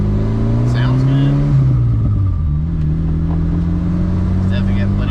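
Volvo wagon engine running on raised turbo boost, a steady droning rumble from inside the car with pitch rising and shifting as it accelerates.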